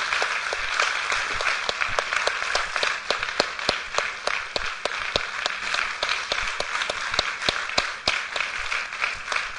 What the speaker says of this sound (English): Let's have a big round of applause for Dr. Poland.